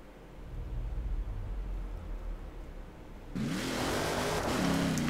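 The Hoonigan RS200 rally car in Forza Horizon 4 revs hard, its engine snarling up through the gears with rising and falling pitch. A quieter rumble comes first, then the engine bursts loud and close as it accelerates.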